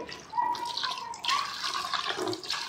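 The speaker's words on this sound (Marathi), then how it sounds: "आणि चांगले घासून चांगली धुवून घेऊया पाणी टाकते आहे" Water is poured over crabs for washing, splashing and trickling close by in uneven bursts, with light clinks against a vessel.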